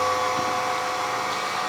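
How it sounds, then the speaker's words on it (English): A Bissell TurboClean 3548 wet-dry vacuum runs with a steady, close whirring motor drone that stays even and loud throughout, with no talk over it. "we're going to vacuum and wet mop at the same time"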